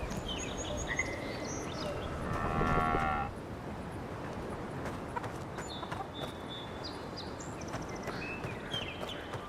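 A zebra-striped cow creature in the video game Avowed gives a loud, low moo in the first few seconds, with faint clip-clop and farm ambience continuing afterward and no talking.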